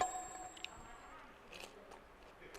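Crisp crunching bites of crispy fried noodles, a few sharp crackles amid quiet chewing, close and fairly soft, with no talking.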